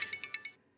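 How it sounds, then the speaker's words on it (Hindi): An incoming call on a mobile phone rings as a bright electronic tone pulsing in five quick beeps, a short pause, then another beep, loud and close. "फोन आ रहा है।"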